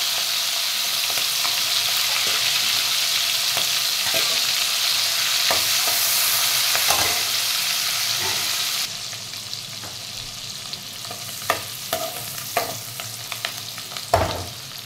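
Dried prawns fry in a pan with a steady, loud sizzle for the first half. The sizzle then drops to a quieter crackle broken by scattered clicks and scrapes of stirring.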